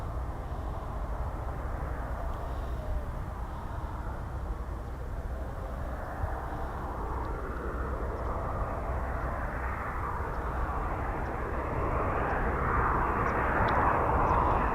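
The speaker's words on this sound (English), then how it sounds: "Here come the crew from BAE Systems in their Embraer" An Embraer 145 arrives at RAF Coningsby, its jet engines producing a steady, heavy roar that holds loud and constant throughout and swells slightly toward the end.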